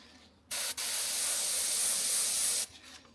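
An airbrush sprays paint onto a model railway platform in one sustained hissing burst of about two seconds, broken by a tiny gap near the start, close and loud against a quiet room.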